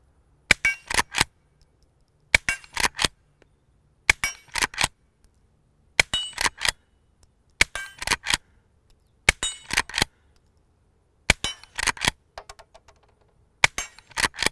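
Eight distinct bursts of suppressed shots from a threaded Henry Frontier lever-action rifle, each a quick cluster of sharp cracks and ringing metallic clangs as rounds strike a steel pistol plate rack, separated by short quiet gaps.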